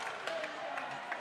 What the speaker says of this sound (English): Clapping along to it are the Gamecock fans as we're back to center ice.